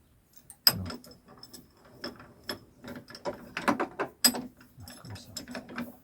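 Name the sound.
ratchet tightening a part on a Yamaha Bruin quad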